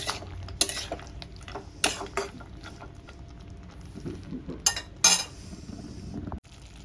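Vegetables and lentil nuggets with chopped tomato and spices are stir-fried in a pan, giving repeated close scraping and clinking of a utensil against the metal in irregular bursts over a faint background.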